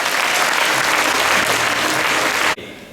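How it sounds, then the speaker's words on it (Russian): An audience at a youth forum applauds loudly and densely for a few seconds, the clapping cutting off abruptly near the end into quieter room tone. "Ваши аплодисменты."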